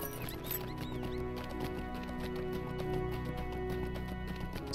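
Horse hooves clip-clop steadily during a ride in Lord of the Rings Online, a quick even gait running throughout at moderate volume over a bed of game music.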